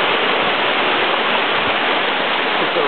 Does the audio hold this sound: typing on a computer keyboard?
no